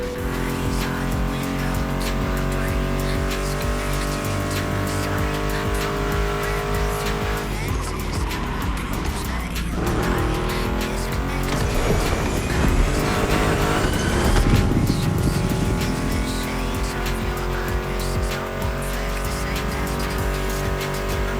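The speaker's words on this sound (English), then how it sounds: "Meshes well with the sound of the engines, you feel me?" A Mustang GT muscle car engine in the video game The Crew Motorfest roars continuously with tire squeals and skids over backing music, revving and sliding through the middle stretch.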